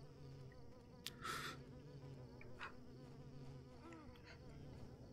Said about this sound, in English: They're either angry moths or wasps.